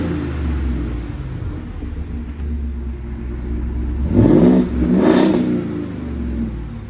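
A Ford F-350 with a 7.3L gas V8 and a louder exhaust idles with a steady low rumble, then revs sharply twice in quick succession, loud and close, before settling back to idle. No one talks.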